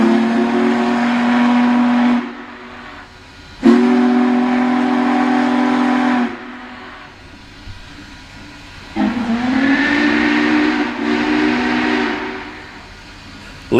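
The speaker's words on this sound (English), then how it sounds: "Any way you look at it, this is one monster of a locomotive" Union Pacific Big Boy 4014 steam locomotive on the Wyoming mainline sounds its whistle in several long, loud blasts separated by short gaps, with a rumbling running train beneath.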